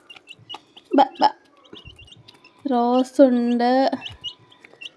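A hen clucks close by: two short sharp clucks, then a longer drawn-out run of loud calls, with a person's voice speaking briefly in between.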